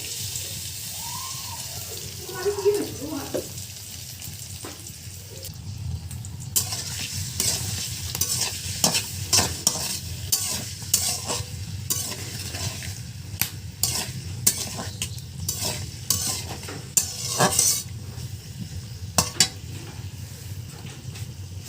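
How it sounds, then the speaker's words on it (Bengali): Bottle gourd sautéed in onion, chili and spice masala in oil in a kadai for a katla fish curry, a continuous sizzle under repeated scraping and clacking stirring strokes, close and fairly loud, with no talking. "আমি ওই মশলার ভিতরে লাউটা কষিয়ে নিব।"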